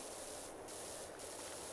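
A pressure washer in PowerWash Simulator sprays in a steady, loud hiss that fills the whole clip, with two brief sharper bursts of spray partway through.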